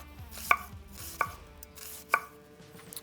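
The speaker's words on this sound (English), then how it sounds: "I'm going to slice an onion real thin." A knife slicing an onion thin on a cutting board, three crisp, evenly spaced chops close up with quiet pauses between them.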